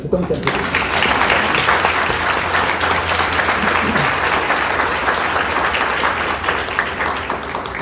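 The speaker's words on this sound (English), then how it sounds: "I just want to give them a round of applause to thank them" Guests at a naturalization ceremony at Boscobel give a steady round of applause, a dense wash of clapping that holds evenly loud throughout, with a low hum and faint voices beneath.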